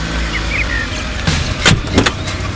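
A car is heard at close range, its engine humming steadily, followed by a few short mechanical clunks and thuds like a door or window being operated.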